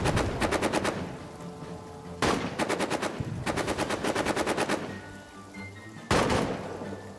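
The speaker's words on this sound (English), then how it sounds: "There goes that machine gun fire." Rapid machine gun fire in the trench-warfare video game All Quiet in the Trenches comes in several long, loud bursts of evenly spaced shots separated by short pauses.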